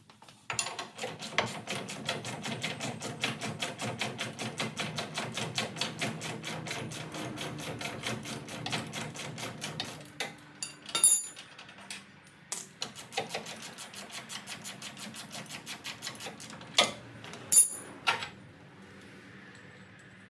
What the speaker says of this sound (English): we'll go ahead and pull that bolt out